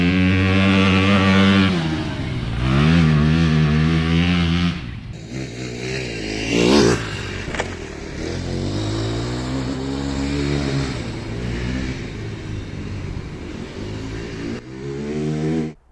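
A Power Wheels Ranger ride-on toy fitted with a 14,000 RPM crate motor whines and revs loudly up and down in a front yard, with rising pitch sweeps, a few abrupt cuts and a brief thump.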